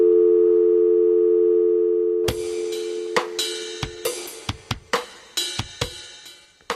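A telephone dial tone drones steadily alone for about two seconds, then fades under a run of sharp clicks and clatters as the phone is handled and dialed.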